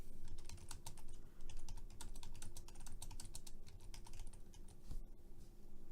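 Steady, quick keyboard typing with crisp clicking keystrokes, close and fairly quiet, continuing without pause for several seconds.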